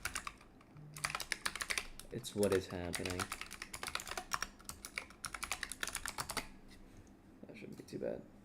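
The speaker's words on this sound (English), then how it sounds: "Don't judge me because I have a loud keyboard" A loud computer keyboard clatters with rapid, uneven bursts of keystrokes, close by, while a person talks over part of the typing.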